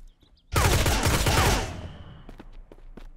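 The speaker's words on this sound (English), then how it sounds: "We gotta shoot him in his weird arm" A loud, rapid burst of automatic gunfire in the Mist Survival video game as a player fires at a boss in a tunnel, lasting about a second before decaying, with a few faint clicks afterward.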